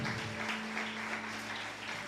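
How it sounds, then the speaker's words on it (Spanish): A church congregation applauds together, a broad, even patter of clapping heard over a steady low hum for a couple of seconds. "Dale un aplauso al Señor"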